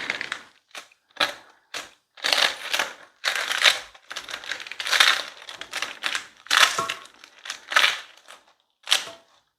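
Romaine lettuce is chopped with a knife on a board for a salad, giving a quick series of crisp, crunchy cutting strokes in irregular bursts, close and fairly loud, with no talking.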